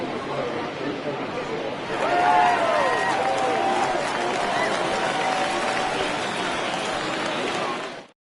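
A baseball home crowd gives a departing starting pitcher a standing ovation, sustained clapping and cheering swelling after a couple of seconds and holding steady, with a broadcaster talking over it.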